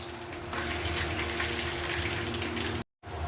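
Water splashes steadily into a pan during home preparation of a sweet potato leaf salad, a continuous close pouring gush that cuts off briefly near the end.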